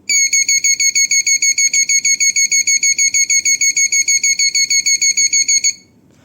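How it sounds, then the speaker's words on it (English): A shrill piezo buzzer intruder alarm, triggered by a motion sensor, beeps rapidly and continuously in a fast, even pulse, loud and close, then cuts off abruptly. "The alarm consisting of the buzzer and the LED will keep going off until authorities resets the alarm."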